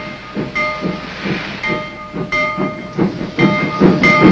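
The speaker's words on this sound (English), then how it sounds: "Tracks were laid to bring rail transport directly to the beach" A military train rolls along a rail line laid down to a beach in South Korea. Close, rhythmic clanks and thumps of wheels on track joints come over a steady hiss and rumble.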